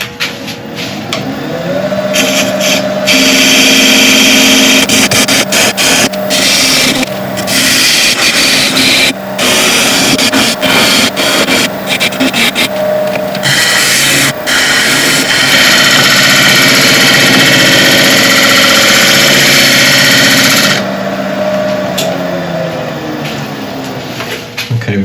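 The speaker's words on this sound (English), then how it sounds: "I'm just going to switch back over to the 3/8 inch bowl gouge" A wood lathe spins a burl while a 3/8 inch bowl gouge cuts it, giving a loud, steady whirring hum with scraping cut noise across the whole stretch and brief breaks and scrapes as the tool shifts.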